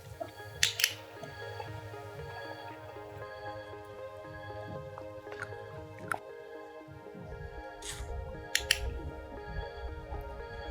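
Sharp, quiet clicks from a dog-training clicker, a few scattered taps spaced seconds apart over faint background noise, while a puppy's harness is put on.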